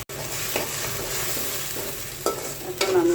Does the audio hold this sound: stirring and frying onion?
yes